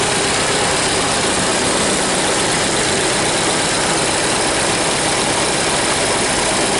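A 1930 Ford Model A engine idles steadily and loudly throughout, a rough broadband running noise with the carburetor starved of fuel and barely holding on.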